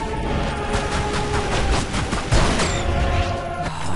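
Rapid gunfire rattles in Tomb Raider Anniversary, a dense run of repeated shots with a heavier blast near the end, loud and continuous with no talk.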